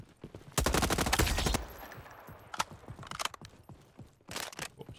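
Bursts of M4 rifle fire in a free first-person shooter game, a dense rapid volley up front, then scattered single shots and short bursts sounding somewhat muffled, like a suppressed weapon.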